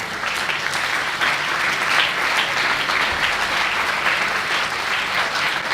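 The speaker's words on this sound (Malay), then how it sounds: "Tepuk tangan untuk diri adik-adik semua" A crowd claps steadily and warmly for schoolchildren at a Maulidur Rasul school celebration, a continuous, moderately loud wash of applause with no talk over it.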